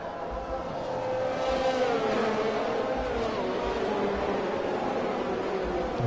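F1 race cars in a Canadian Grand Prix video game accelerating as racing resumes, a sustained engine whine rising in pitch at moderate loudness, with faint commentary underneath.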